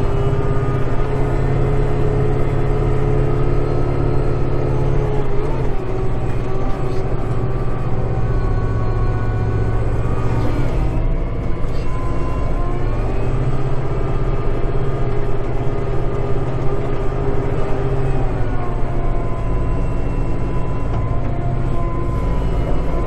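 A Kubota 5740 tractor engine runs steadily up close, a continuous low mechanical drone that holds an even level for the whole stretch with no speech.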